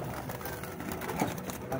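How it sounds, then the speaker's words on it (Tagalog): Caged pigeon-like birds coo faintly in a low, soft murmur amid background noise, a couple of brief coos standing out near the middle. "Kakaiba itong mga ibon na ito, eh."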